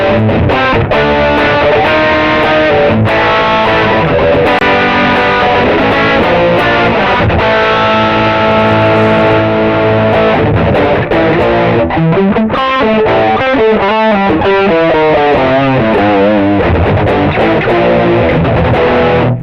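A loud, thick electric guitar rings out through a Tech 21 OMG Richie Kotzen overdrive pedal, sustained chords and notes blending into a dense, gritty tone with no voices.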